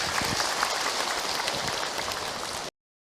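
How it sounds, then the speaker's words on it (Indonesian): Dense, steady applause from the congregation at an Islamic religious talk, a continuous rain-like patter of many hands that stops abruptly into silence. "Tepuk tangan untuk kita semua"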